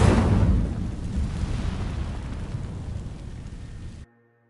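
The Incendio fire spell from Hogwarts Legacy bursts into flame against dry vines: a loud, roaring whoosh that swells at once, then crackles and rumbles steadily for about four seconds before cutting off abruptly.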